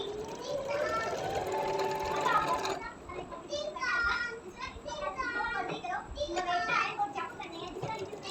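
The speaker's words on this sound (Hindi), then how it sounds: "इस तरह से गले की मैं सिलाई लगा लूँगी" A sewing machine stitches around a round dress neckline, running in a steady buzzing burst at first, then mixed with a voice and chatter for the rest.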